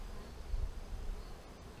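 A steady, low insect drone fills the clip, a dense buzz of many honeybees close by at an open top bar hive, with no voices.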